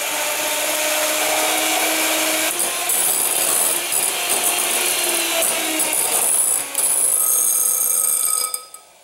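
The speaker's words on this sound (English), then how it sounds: "I am whipping my whites." An electric mixer whips egg whites in a bowl, giving a loud, steady high whir with shifting tones close by that cuts off near the end.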